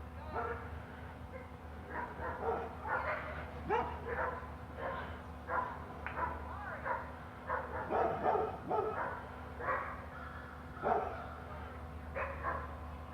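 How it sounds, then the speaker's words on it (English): Several dogs bark over and over at a noisy outdoor spot, yips and woofs coming in irregular bursts at mid distance, with a steady hum underneath and a person talking now and then. "All the dogs are barking."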